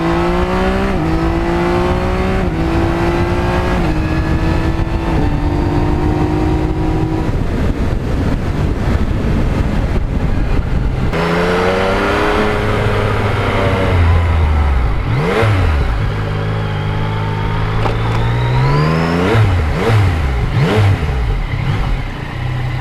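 Yamaha MT-09 naked motorcycle cruising along Route 80, its engine note climbing and dropping through gear changes, loud and close throughout with steady wind rush and no talking.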